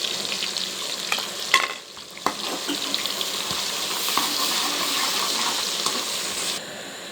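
Onions fry in a pan for a keema dish, a continuous moderate sizzle broken by a few sharp spoon knocks and scraping stirs early on, close up with no speech.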